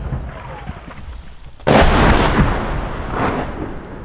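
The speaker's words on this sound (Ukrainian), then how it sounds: "місто раптово почали обстрілювати із танка" A tank shells the front-line town of Avdiivka in Donetsk region: one heavy, close blast cuts sharply through low ambient rumble, then rolls off into a long, loud reverberating boom.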